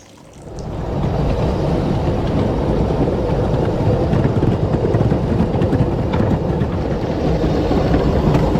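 A vintage-style train rolls past on a railroad, a broad, steady rumble with rattling that starts after a second and holds loud and continuous to the end.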